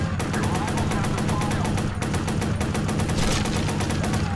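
Rapid gunfire from a video game as a player shoots out a vehicle's tire, dense repeated shots running continuously and loud throughout, with game sounds layered underneath.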